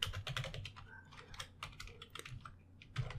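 Fingers type on a computer keyboard while entering Python code, a quick run of soft, close key clicks in irregular bursts.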